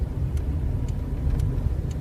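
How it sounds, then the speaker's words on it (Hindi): Car engine running steadily while the driver shifts into fourth gear on a driving lesson, a continuous low mid-range hum with faint periodic ticks and no talking. "तो इस तरह से देखें यहाँ पर जो है वो हमारी गाड़ी इस वक्त चौथे गियर में जा रही है"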